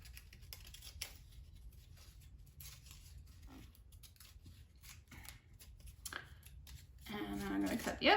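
Scissors snip out paper shapes in a quick run of crisp cuts, with faint speech in the background and the cutting growing louder and busier toward the end.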